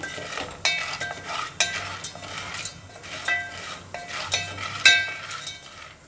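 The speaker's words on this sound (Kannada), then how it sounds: "ನಾನು ಸಣ್ಣ ಉರಿಯಲ್ಲೇ ಫ್ರೈ ಮಾಡ್ತಾ ಇದ್ದೀನಿ" Popcorn frying on a low flame in a pan, stirred with a utensil that clinks and scrapes against the metal in irregular bursts over a soft steady sizzle, close and moderately quiet.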